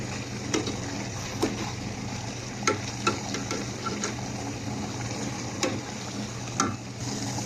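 Rui fish pieces fry in a pot packed with fish and spring onion leaves. A soft, continuous sizzle runs under repeated sharp stirring clinks and scrapes from a spoon against the pot. Nobody speaks.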